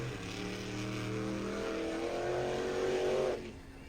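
A monster truck engine at a monster truck event revs hard, a loud, deep roar climbing in pitch as the throttle opens and then cutting off sharply near the end, with no voices over it.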